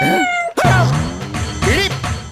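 A cat meows with a rising, wavering cry amid a noisy room, with people's voices mixed in and overlapping the calls.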